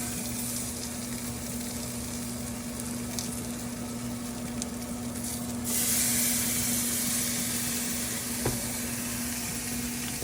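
A prime tomahawk steak sears over an open fire, giving a steady, close sizzle and hiss of fat that brightens partway through, with a faint continuous hum underneath.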